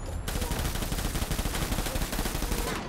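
Rapid, sustained automatic gunfire from soldiers in the video game Death Stranding, loud and dense bursts filling nearly three seconds with a brief quieter lead-in.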